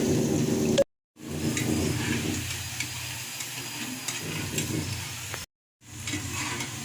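Betel leaf pakodi made with jowar flour fry in hot oil, giving a steady close sizzle and bubble broken by two short gaps of silence.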